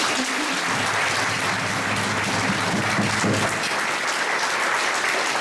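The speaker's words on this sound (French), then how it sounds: "On va les applaudir quand même." Sustained audience applause at a high school prize ceremony, a dense, even roar of many hands clapping throughout, with faint voices underneath.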